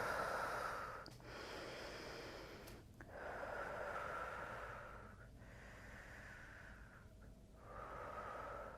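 Slow, deep breaths during a yoga stretch at home, several long airy inhales and exhales in a steady rhythm, close and soft, with no talking.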